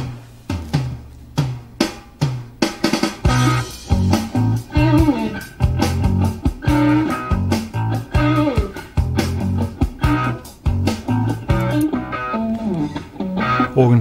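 Organ and guitar play the groove-setting intro of a song, a loud, busy rock band sound with punchy rhythmic hits throughout.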